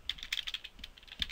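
Quick, light clicking of keys as someone types on a computer keyboard, a short irregular flurry of taps, close and fairly quiet, no talking.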